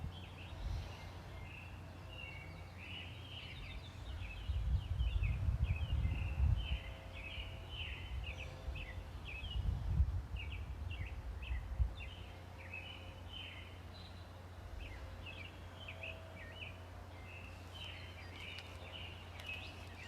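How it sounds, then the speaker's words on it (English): Faint morning birdsong chirps and trills repeat throughout over quiet low hum, with a few soft rumbling thumps midway. "The birds are just singing to great delight this morning"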